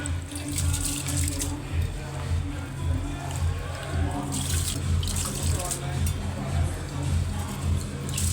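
Water is poured into a pot of rice for mutton biryani, a running gush that swells and eases in bursts over a low steady hum while people talk nearby.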